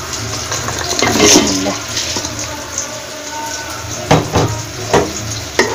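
Rice tipped into a pan of spice masala fried down in oil until the oil separates, giving a steady close sizzle and watery hiss with a few sharper crackling bursts toward the end.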